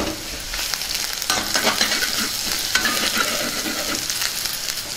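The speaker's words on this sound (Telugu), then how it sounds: "ఇప్పుడు కొద్దిగా అల్లం వెల్లుల్లి పేస్ట్ వేసుకుందాం. వీటిని కూడా బాగా వేయించుకుందాం." Chopped onions and ginger garlic paste fry and get stirred in a pan for a colocasia fry, making a steady, close sizzle with soft scraping stirs and no talking.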